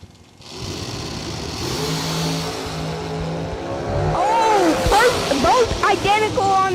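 A race car engine revs at a racing event, a steady mid-pitched drone that swells louder partway through, while excited voices talk and shout over it.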